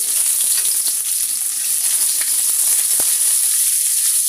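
Chopped onions fry in hot oil with cinnamon, bay leaves and cardamom, giving a loud, dense, continuous sizzle close by with a faint knock or two from stirring and no voices.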